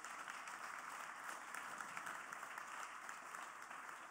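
Audience applause at a live sports forum event, a steady, dense wash of clapping hands that continues evenly without a break and sounds moderately distant.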